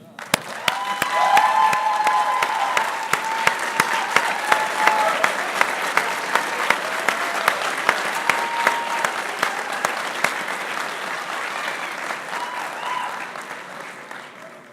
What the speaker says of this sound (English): they deserve a standing ovation